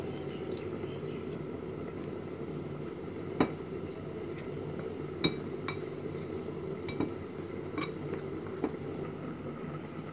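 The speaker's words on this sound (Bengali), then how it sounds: "পানি দিয়ে বেসনের মিশ্রণটাকে মেখে নিব" Gram flour batter for beguni being mixed with water in a bowl, with quiet squishing and occasional sharp clinks of a utensil against the bowl at irregular intervals.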